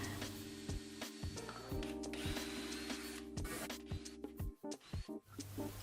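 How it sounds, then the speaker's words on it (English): Power drill boring pilot holes into wooden corner posts of a bird table: a steady, fairly loud whirring drone with several brief stops and restarts, close by and without talk. "I held 1 in each corner to pre-drill holes from either side."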